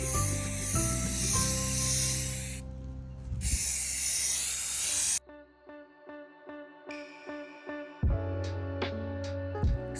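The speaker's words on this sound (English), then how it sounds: "I got my gold spray paint" Rust-Oleum gold mirror effect spray paint is sprayed onto a frame, making a long, loud close hiss that then breaks into a series of short, rhythmic spurts, with steady background music underneath.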